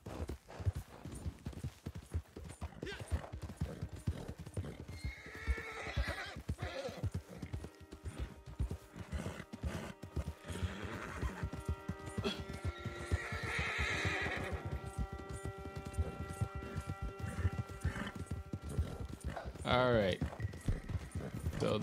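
A horse in Red Dead Online galloping with rapid, dense hoofbeats, its whinny rising clearly near the end, loud and close over the game's ambient tones.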